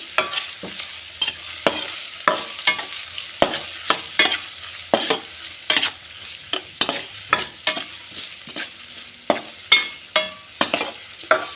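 Paddu batter mixed with salt is stirred in oil, a rhythmic series of close spatula scrapes and clacks over a light sizzle, repeating roughly every half second.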